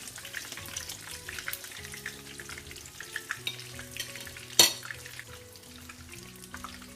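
Hake fillets coated in flour frying in hot oil, a steady close crackling sizzle with a sharp pop partway through and no voices.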